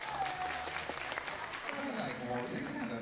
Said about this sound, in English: So, give me applause.